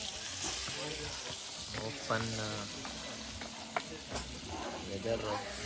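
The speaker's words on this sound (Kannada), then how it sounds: "ಪ್ರಾನ್ಸ್ ಫ್ರೈ ಮಾಡ್ತಾ ಇದ್ದಾರೆ" Prawns fry outdoors in an open space at a farm gathering, a steady sizzle with stirring scrapes and faint clatter while people talk nearby.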